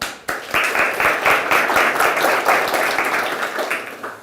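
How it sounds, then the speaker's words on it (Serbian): An audience applauds to welcome a speaker at a talk on pitching yourself for a UX designer job, steady dense clapping that starts abruptly and carries on evenly for several seconds, with little else heard. "da ga pozdravimo aplauzom"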